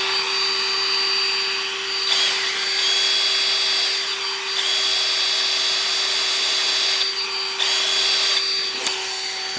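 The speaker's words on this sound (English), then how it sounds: "I'd turn our vacuum on" A vacuum motor whines steadily with a piercing tonal hum, its pitch briefly dropping and surging several times as airflow changes.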